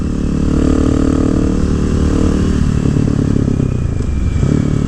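A 2018 Husqvarna 701 Supermoto single-cylinder motorcycle engine drones loudly and steadily while riding on a canyon road, its pitch shifting slightly as the rider rolls on and off the throttle, with strong wind rush throughout.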